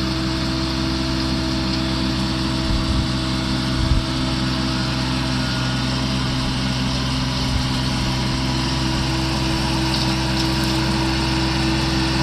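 Tractor pulling a bush hog mower over rocky ground, a steady droning engine and spinning blade hum that stays loud and constant, with a few brief knocks as rocks are struck.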